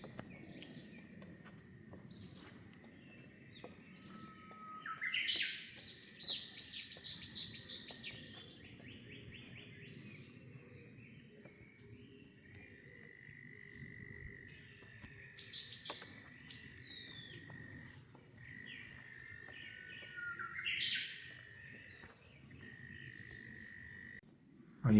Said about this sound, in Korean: 귀 기울여 보세요. 이제 저 새소리를 찾아서